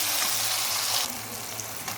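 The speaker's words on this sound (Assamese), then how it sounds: "তো এইখিনি অলপমান মই ভাজি লওঁ" Tomatoes fry in a pan with a loud, close, steady sizzle that eases slightly partway through, with no voices.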